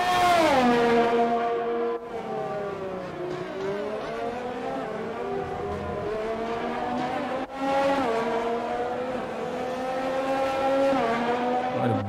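Formula 1 race car in the F1 2020 video game, its engine whining steadily through rising and falling gear shifts, with two abrupt cuts in pitch as it changes gear, loud and close with no voices.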